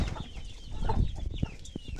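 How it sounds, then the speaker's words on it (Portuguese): Free-range backyard chickens clucking softly in several short, scattered calls close by, with no talk over them. "Uma criação de galinha da terra aí, ó."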